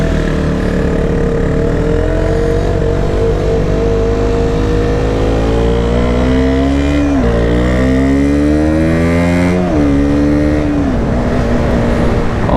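A KTM Duke 125 motorcycle on a test ride hums with a loud, close single-cylinder engine note, rising in pitch through the gears with dips at each shift, over steady wind rush.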